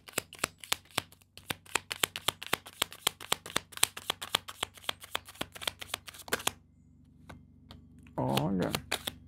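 Tarot cards are shuffled close up in a quick, rhythmic run of sharp flicks, followed by a pause and a short soft shuffle as cards are drawn. There is no speech.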